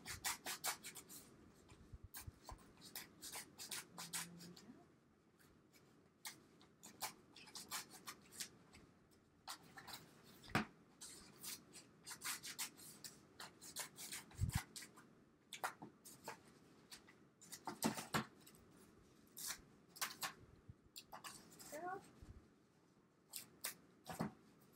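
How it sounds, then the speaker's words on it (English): Scissors snip and rasp through cardboard in scattered close cuts and scrapes, with quiet pauses between, while a homemade ballot box is being cut out. "So I'm just going to take my scissors and be very careful as I go in."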